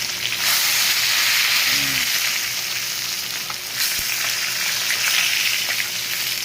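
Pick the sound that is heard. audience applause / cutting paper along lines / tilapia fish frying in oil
tilapia fish frying in oil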